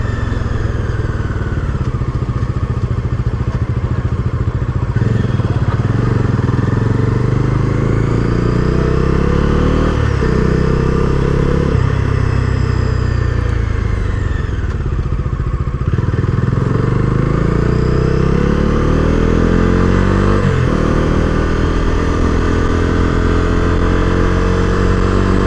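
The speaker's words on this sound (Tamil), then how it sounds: "இந்த டபுள் பேரல் எக்ஸாஸ்ட்டு தான். அந்த பேசியான தம்பு எஃபெக்ட்" A Bajaj Dominar 250 motorcycle with a double-barrel exhaust gives a loud, continuous, close engine thump, with the revs rising and falling throughout and no talking over it.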